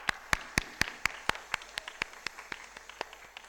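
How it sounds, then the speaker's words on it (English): Sparse, distinct claps ring out in a hall at a gala inaugural event, single hands striking in an irregular rhythm that slows and fades rather than a full crowd ovation. "I would love to give all of you a round of applause"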